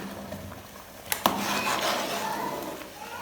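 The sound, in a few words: stirring ogbono soup in a pot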